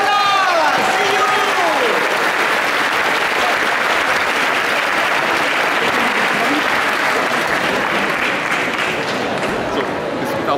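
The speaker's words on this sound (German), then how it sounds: "jetzt einen großen Applaus für die erste Designer" A crowd at a fetish fashion show in Munich bursts into loud, sustained applause for the first designer. A voice and whistles sound briefly at the start before continuous clapping takes over.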